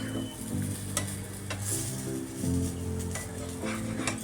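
An oats cheela with onion, tomato and carrot roasts in a pan on a low flame, giving a steady soft sizzle with occasional utensil scrapes and a low tonal hum running underneath.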